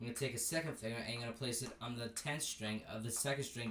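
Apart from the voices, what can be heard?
None of the usual background noises is heard.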